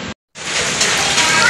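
Morning rain falls in Tacloban as a steady, loud hiss. It starts after a brief dropout and continues evenly without pause.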